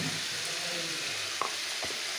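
Poppy seed paste with green chillies, thinned with a little water, sizzles steadily in a pan beside frying potatoes, a close continuous hiss broken by a couple of brief stirring knocks.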